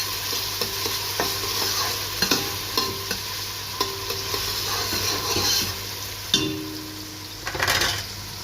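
Onions fry in oil in a pan, with a continuous close sizzle and a scattering of scraping stirs and light clinks of a utensil against the pan.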